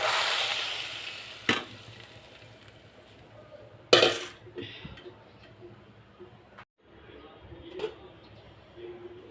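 Hot oil with fried onion and garlic poured into lentil dal with drumstick, a loud hiss at the start fading under clattering pot and utensil knocks, close by, with some talk in the background.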